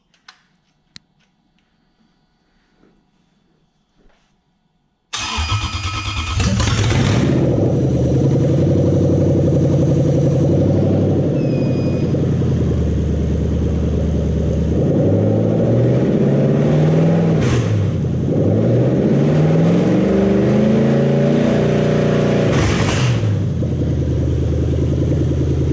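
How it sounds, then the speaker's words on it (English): A cold Toyota VVTi engine cranks and fires after about five seconds of near silence, then runs loud and close with several rising revs and settling idle for the rest, with no talk. "And I know it runs because it runs here, so we'll fire it up."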